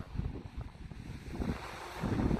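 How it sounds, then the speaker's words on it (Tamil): Strong wind gusts at Lake Pukaki buffet the microphone in a low, rumbling roar that swells and grows louder toward the end, with no voices. "ஒரே காற்று காற்று காற்று காற்று அடித்து கொண்டு இருக்குது"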